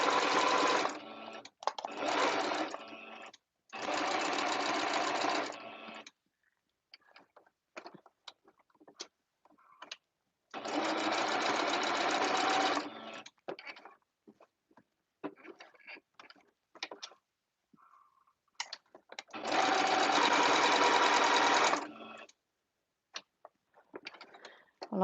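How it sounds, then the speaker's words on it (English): A sewing machine stitches all the way around a fabric scrunchie in several steady, whirring runs of a few seconds each, broken by pauses with soft handling clicks and fabric rustle. "you can just go around with a little stitch all the way around it"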